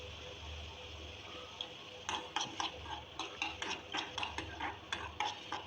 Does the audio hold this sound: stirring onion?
yes